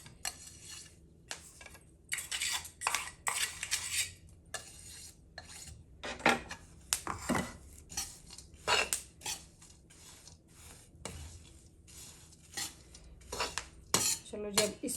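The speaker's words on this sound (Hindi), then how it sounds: "अब इसके अंदर ये अलसी डाल देती हूँ मैं, और इसको कर लेते हैं मिक्स अच्छी तरह से।" Roasted dry fruits and flaxseed are tossed together in a pan with a little ghee for panjiri, producing dry rattling, clattering scrapes of a spoon on metal in irregular close bursts, with no one speaking.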